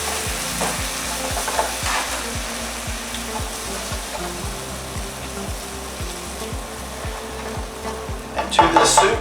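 Soup poured into a hot pan and stirred, a loud continuous sizzle with rapid rhythmic scraping of a utensil against the pan and a burst of louder sizzling near the end, close up with no speech.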